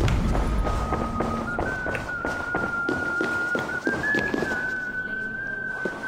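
A long, steady police whistle blast in Assassin's Creed Valhalla, a sustained high tone that holds for several seconds and steps slightly higher partway through, over a busy backdrop of footsteps, taps and thuds.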